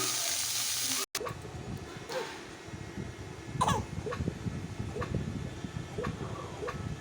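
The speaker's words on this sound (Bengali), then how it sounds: "এবার পনিরটা ভেজে নিচ্ছে।" Paneer sizzles and fries in a pan, a steady crackling hiss with a few soft stirring knocks, close and continuous after a brief cut at the start.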